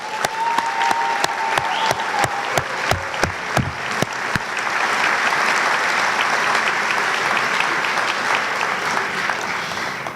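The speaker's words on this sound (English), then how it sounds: "we offer one more round of applause for your academic success this year" Audience at a school awards program applauds students' academic success: a few loose claps at first swell into steady, full applause from a large crowd, sustained and fairly close for about ten seconds.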